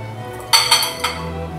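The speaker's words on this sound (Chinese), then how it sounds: "那我们就把我们的鸡翅全部放进去" Chicken wings being dropped into a dish, heard as a short cluster of close, bright clinks and knocks against the dish, then quiet.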